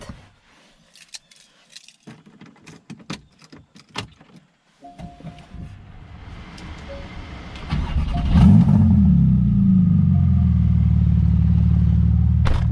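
Porsche GT2 RS Weissach: scattered clicks and handling noises, then a starter whir and the engine catching into a loud, deep, steady idle that holds close by to the end, with no one talking.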